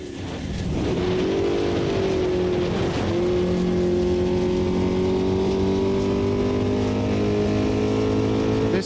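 In the Automobilista 2 racing game, a heavy, sluggish rally car's engine revs up and holds a loud, steady drone with rising harmonics, briefly dipping around the three-second mark before climbing again, with no voices over it.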